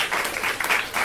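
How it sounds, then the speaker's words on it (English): An audience at a limerick competition final claps in a dense, sustained burst of applause filling the room. "give yourselves a round of applause"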